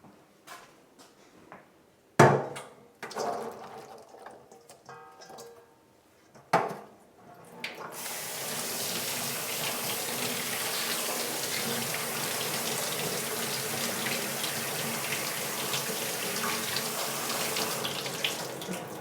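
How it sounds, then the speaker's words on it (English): Canned black beans get rinsed in a strainer under a kitchen sink tap: a few clunks and knocks of the can and strainer come first, then a steady close hiss of running water that goes on for about eleven seconds. "I'm just going to head over to the sink and rinse them out really well."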